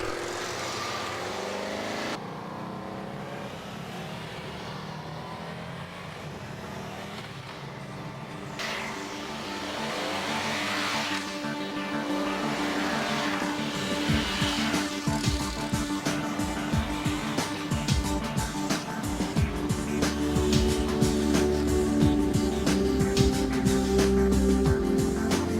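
Several Honda Magna motorcycles ride along an open road, engines droning steadily and building louder toward the end, with wind rush and passing-vehicle noise mixed in.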